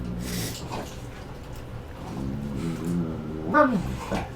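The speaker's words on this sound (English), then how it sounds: "Told you with the dogs, they're going to get to fight." Dogs scuffle with growls, yips and whimpers, then a louder burst of sharp barking near the end, close by and alone without talk.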